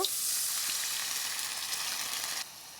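Water hits a hot frying pan while a vegetarian dish cooks, raising a loud, steady hiss of sizzling that holds for a couple of seconds, then abruptly drops to a softer crackle near the end.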